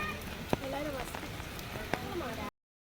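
Monsoon rain falls steadily at the Thiruvananthapuram zoo, making a continuous soft hiss of drops on surfaces with a few faint distant calls mixed in.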